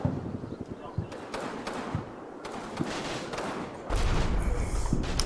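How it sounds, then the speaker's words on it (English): Gunfire striking and surrounding a sturdy house in a war video game, with scattered single shots and bursts repeating over several seconds, followed by a louder, denser stretch of fire near the end, under speech. "there's quite a lot of shooting going on at this house"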